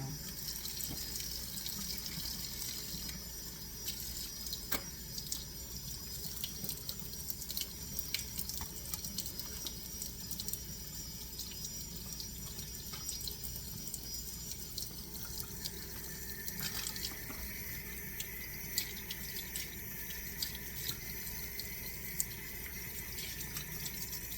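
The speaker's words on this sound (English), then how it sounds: "I'm just rinsing them off now" Cabbage leaves rinsed under a running kitchen tap, with a steady stream of water splashing into a sink and occasional drips and shifts in flow, close and continuous, with no voices.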